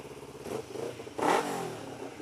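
An engine with a raised idle of about 1900 RPM revs briefly, a close mid-pitched rumble that surges twice, the second rev sharper and louder before settling back.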